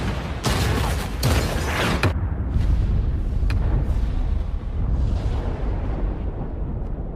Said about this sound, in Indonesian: agar segera meledakkan markas mereka